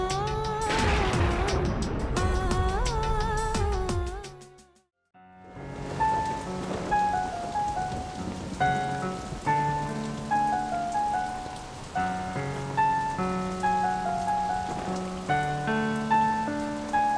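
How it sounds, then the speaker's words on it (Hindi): Rain pours down amid thunder, beginning with a heavy rumbling burst and then a steady hiss of rainfall beneath sustained melodic background music. "लग रहा है बारिश होने वाली है।"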